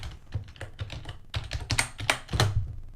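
Quick, steady typing of code on a computer keyboard, close and crisp, with rapid successive key clicks and a few heavier thunks, heard alone without talk.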